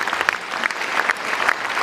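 Brisk audience applause at a comedy concert, many hands clapping steadily at close range for a short burst, with no speech over it.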